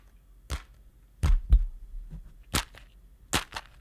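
A human voice imitates the item pickup sound effect from Zelda: Tears of the Kingdom, several short sharp percussive mouth sounds spaced apart, close and fairly quiet.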